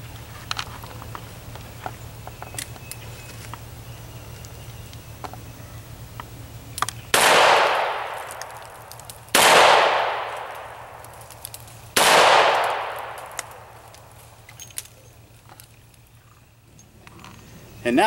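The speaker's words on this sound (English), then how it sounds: "let's see how these bullets impact the target" Three loud, sharp impacts of 158-grain .38 Special bullets striking a target, evenly spaced a few seconds apart, each ringing out with a decaying tail over a steady low hum.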